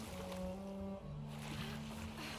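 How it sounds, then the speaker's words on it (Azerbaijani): A boat glides over water in the video game Sea of Solitude, a soft, steady wash of water with low tonal hum underneath, quiet and continuous. "Qayığı sürək bu tərəfə."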